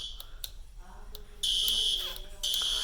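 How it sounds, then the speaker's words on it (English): A fire alarm system sounds with a piercing electronic tone that starts partway through, runs steady and loud, briefly dips, then resumes, after softer intermittent beeps at the start. "let's go to the control panel and silence the alarm"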